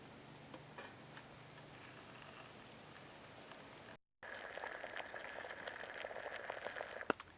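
Miso soup bubbles and simmers on a folding firebox campfire stove, a soft crackling patter after a brief cut, then a louder, busier simmer with occasional ticks.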